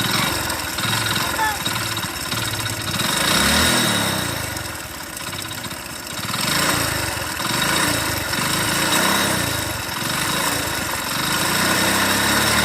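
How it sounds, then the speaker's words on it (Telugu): A badly damaged motorcycle engine runs steadily up close at a village bike mechanic's, a rough, uneven mid-pitched drone with a rhythmic rise and fall throughout. "ఇంజన్ సౌండ్ అనేది ఎట్లా వస్తుందో మీరు చూస్తారు కదా"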